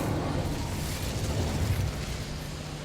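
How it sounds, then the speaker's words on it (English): An Incendio fire spell is cast in Hogwarts Legacy, a steady roaring, bursting blaze of flame that stays loud and dense for the whole stretch, with no voices over it. "इस पे आग डालेंगे। Incendio."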